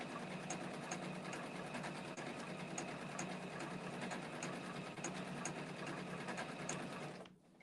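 A computerized sewing machine stitches a decorative border stitch for quilting, running in a fast, even, continuous mechanical rhythm at close range before stopping abruptly at the end.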